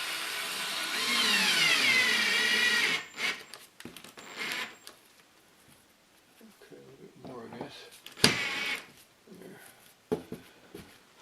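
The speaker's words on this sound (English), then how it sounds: "put some of these go board screws here into the nailers to hold this mineral board in place" A power drill drives screws through mineral board into the ceiling nailers during a mobile home ceiling repair: a loud, close motor whine runs for about three seconds, then gives way to scattered thumps and knocks from the work.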